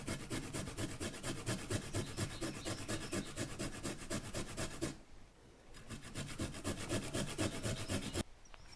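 Fresh ginger is rasped rapidly back and forth across a grater in a fast, even rhythm. The scraping is close and fairly quiet, stops briefly, then resumes and cuts off sharply near the end.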